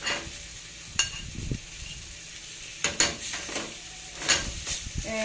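Breaded chicken cutlets sizzle faintly in a pan and are lifted out onto a serving plate, with a few sharp clinks and scrapes of a utensil against the pan between quiet stretches.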